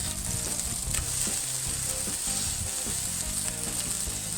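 A smash burger patty sizzles on a hot griddle right after the flip, a steady close, loud frying hiss with crackling pops running throughout, no talking.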